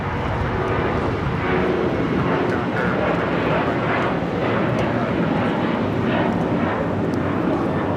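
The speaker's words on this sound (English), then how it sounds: "This is Alaska Airlines Flight 6 taking off to Washington Reagan National on the 737-800" An Alaska Airlines Boeing 737-800 takes off from Los Angeles International Airport, bound for Washington Reagan National, with a loud, steady jet roar that rumbles continuously throughout.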